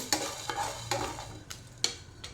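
Masala frying in a very hot pan for chicken sukka, with a few sharp scrapes and clinks of stirring at irregular intervals over a low, soft sizzle.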